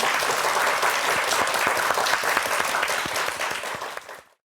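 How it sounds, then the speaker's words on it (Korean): A studio audience on a Korean morning talk show bursts into brisk, close applause for a Korean medicine doctor, many hands clapping steadily before it cuts off abruptly. "한동아 한의사께 박수 한번 부탁드리겠습니다."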